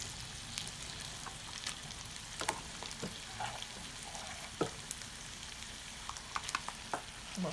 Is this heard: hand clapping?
no